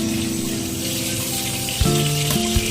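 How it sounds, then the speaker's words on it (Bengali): Nigella seeds frying in a pan with garlic as they are stirred, giving a steady close sizzle with a brief scrape and clatter near the end. "এই যে কালো জিরা দিতে, এবার একটু নাড়িয়ে নিয়ে"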